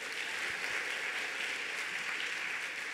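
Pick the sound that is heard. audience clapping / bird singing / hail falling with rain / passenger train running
audience clapping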